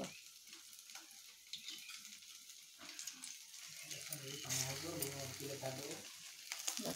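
Potato tikki stuffed with besan sizzles and fries in a pan, a steady close crackle that grows louder toward the end while a person talks over it.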